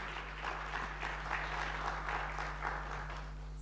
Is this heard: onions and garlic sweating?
no